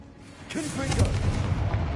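A Confringo blasting spell bursts in Hogwarts Legacy, a rumbling boom that swells after a brief lead-in and keeps a heavy, sustained roar through the rest of the moment, with no voices present.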